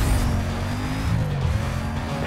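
A white Mercedes-Benz SL 500 runs at speed during a police pursuit in Need for Speed: Most Wanted, its engine a steady loud drone with brief tire squeal, alone without talk.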